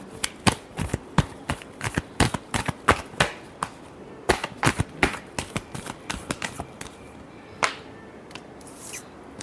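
Tarot cards are shuffled by hand in a run of quick, crisp riffling snaps, irregular bursts close up with short pauses and no voices.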